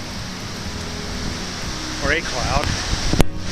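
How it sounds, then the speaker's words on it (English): Steady wind rushes across a misty mountain trail while the hiker sits inside a cloud after rain, a broad constant roar with a brief voice partway through and a sharp knock near the end. "It is really windy though."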